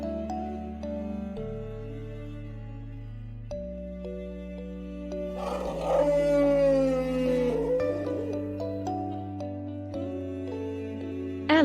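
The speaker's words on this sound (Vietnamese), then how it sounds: "Con voi." An elephant's trumpeting call rises out of a steady, cheerful children's tune, one loud brassy blast lasting about two seconds before the music carries on alone.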